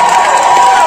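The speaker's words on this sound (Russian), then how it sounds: "Вам отдельные аплодисменты, ребята." A loud crowd cheers and claps together, a dense continuous roar with a sustained vocal tone running through it, brief and close.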